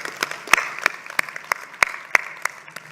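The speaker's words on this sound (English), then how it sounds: "Help me give them a round of applause." Sparse clapping from a small audience, individual claps distinct and irregular, fairly close.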